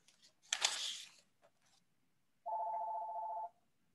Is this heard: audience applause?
no